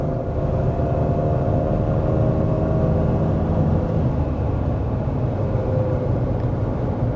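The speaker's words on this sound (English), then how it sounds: "I was just kind of accelerating relatively casually up that hill while Mason was finishing talking about fuel" A 2025 Nissan Rogue climbs a hill under casual acceleration, heard from the cabin as a loud, steady low engine and road rumble that holds evenly throughout.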